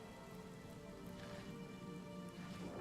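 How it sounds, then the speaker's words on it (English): Steady rain summoned by a rain scroll in the video game Divinity Original Sin, a continuous even hiss of falling drops with no voices. "Let's go ahead and use one of these rain scrolls just to be facetious."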